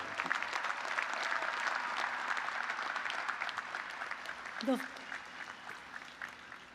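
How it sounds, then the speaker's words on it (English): An audience at a university honors convocation applauds award finalists in a long, steady wash of clapping from a large crowd. It tapers slightly toward the end, with a brief shout rising out of it. "Let's give those finalists a big cheer."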